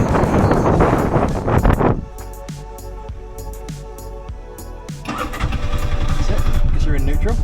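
A tuk-tuk engine is started after a rough cranking burst, then settles into a loud, close, buzzing idle with a rhythmic putter; a person speaks over it.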